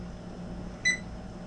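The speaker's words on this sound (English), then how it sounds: "timer's going off" A kitchen timer going off while dry beans cook, a single short electronic beep over quiet background hum.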